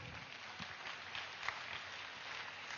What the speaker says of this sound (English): Let's give a huge round of applause to Mega Meditation Summit.